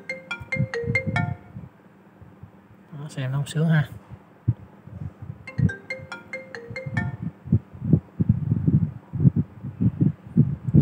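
A cheap second-hand iPad 2 plays a ringtone through its small, modest speaker, a bright looping melody in two short bursts. Someone talks over and between them, with handling noise nearby.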